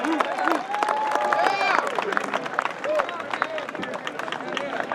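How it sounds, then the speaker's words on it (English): Outdoor crowd at Hash Bash in Ann Arbor clapping and cheering for Adam Brook, scattered sharp claps over babble and chatter, with voices talking nearby throughout. "So I'd like everyone to give a round of applause for Adam Brook."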